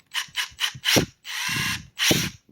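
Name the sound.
Makita compact impact wrench running, trigger test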